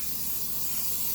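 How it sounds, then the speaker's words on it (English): Cooking spray coating a pan for a chicken tetrazzini casserole: one steady, close, broadband hiss that lasts the whole moment, with no voices. "I'm going to go ahead and use cooking spray"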